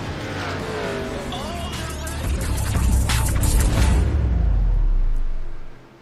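NASCAR Cup cars in iRacing at Michigan International Speedway roar as the field accelerates at the green flag. The engines rise to a loud, close, rising howl with a squeal of tires, then cut off abruptly near the end.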